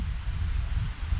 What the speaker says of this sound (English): It's a bit windy today, don't know if you can hear me.